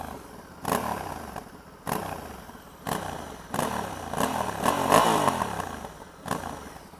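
A 2020 Honda Africa Twin 1100 Adventure motorcycle engine revving in repeated bursts, about six sharp throttle blips rising and falling over a rumbling idle, close and loud with no talk.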